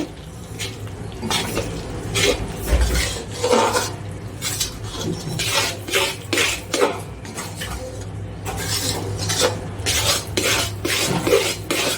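A spoon stirs a thick farali mixture of jaggery in a pan: steady, close scraping and rubbing strokes repeat in an uneven rhythm throughout, with light metallic clinks.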